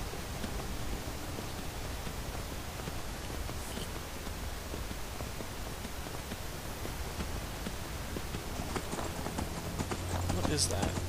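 Horse hooves clip-clop steadily in Skyrim as a mount travels, a continuous rhythmic patter under a wash of game ambience and wind-like noise, with a voice speaking at times.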